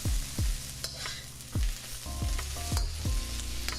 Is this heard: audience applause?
no